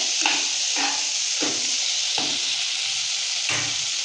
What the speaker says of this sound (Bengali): বেশ কিছুক্ষণ আমি নাড়াচাড়া করে নেব যাতে ছোলার সঙ্গে মশলাটা ভালো করে মেশে